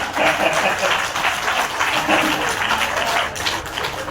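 An audience claps at a Hindi poetry recital, producing steady, moderately dense applause that carries on evenly for several seconds in a hall, without a clear peak or ending.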